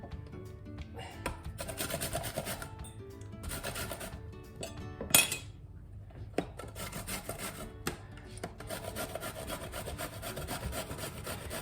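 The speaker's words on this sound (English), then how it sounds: "Now I'll keep grating these and I'll pop them into that mixture." Zucchini is rubbed over a grater in a kitchen, producing rhythmic scraping strokes in bursts with short pauses and an occasional clink of metal.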